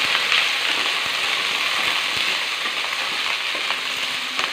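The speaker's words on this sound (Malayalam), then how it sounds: "ചെറുമല്ലി വെളുത്തുള്ളി എല്ലാം കൂടെ നമുക്കൊന്ന് വഴറ്റി എടുക്കാം" Coriander and garlic sauté in a hot pan with green chillies for a long bean curry, giving a steady, dense, close sizzle that runs unbroken throughout with no talking.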